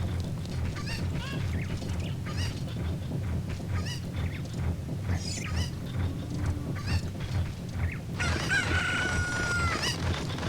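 Cucco chickens in Kakariko Village in Zelda: Ocarina of Time cluck in a dense, continuous flock over a busy game soundscape, with a rooster-like crow rising near the end.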